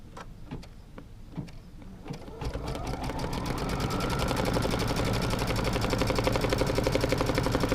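A sewing machine stitches a quilt block, with a few light clicks followed by a close, rapid, steady mechanical whir that builds slightly in volume and runs to the end.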